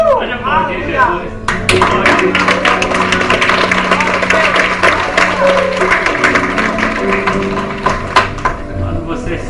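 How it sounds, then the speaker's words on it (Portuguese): A congregation at a worship service aboard the cruise ship Grand Holiday claps loudly and continuously, a dense patter of hands with scattered taps. Voices talk and call out over it throughout. "Pode aplaudir Jesus."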